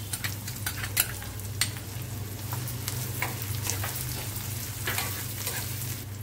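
Onion fries in a pan for bombil bhujan, giving a continuous close sizzle broken by scattered crackles and stirring scrapes, all over a low steady hum, with no talking.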